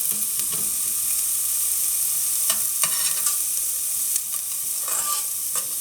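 Onion and garlic sizzle steadily in a hot pan for butternut squash soup, a constant close hiss with a few faint clicks and scrapes of stirring.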